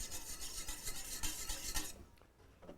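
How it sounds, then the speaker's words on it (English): A whisk scrapes rapidly against a bowl, mixing cider vinegar and grainy mustard in quick rhythmic strokes for about two seconds, then stops, leaving faint quiet. "So we've got about a tablespoon of cider vinegar in there right now, and about a tablespoon of the grainy mustard. So we're going to whisk that together."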